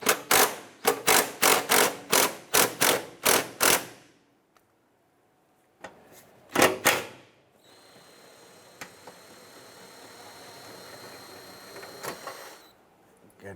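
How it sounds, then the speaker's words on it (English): An impact driver with a 13mm socket and extension loosening fuel tank strap bolts on a 2007–2012 Nissan Versa, giving a rapid run of about ten loud hammering bursts, then a couple more, followed by a quieter mechanical whine. "Using our 13mm socket and extension with our impact driver,"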